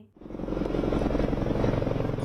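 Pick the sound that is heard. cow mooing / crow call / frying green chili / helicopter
helicopter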